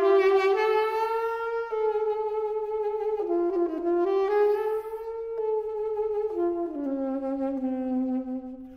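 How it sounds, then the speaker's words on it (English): A saxophone plays a 1940s-style line, a sustained solo melody with clear held notes and quick bends, loud and close with no accompaniment. "Adolf Sax had no idea that in the 1940s, the saxophone would ever do this"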